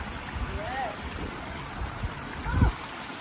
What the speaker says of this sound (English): You can hear the waterfalls in the background.